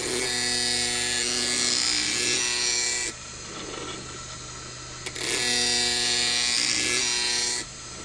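An Incredible Edger 75 Hz skate sharpener grinds along a stainless skate blade, giving a loud buzzing hum with harsh scraping passes that cut off briefly twice before resuming.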